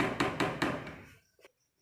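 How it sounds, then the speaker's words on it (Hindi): A lid goes onto a cooking pot of matar pulao, making a few quick clattering knocks in a row that fade into quiet, followed by a faint tap. "तो अब हमने इसके ऊपर ढक्कन दे देना है।"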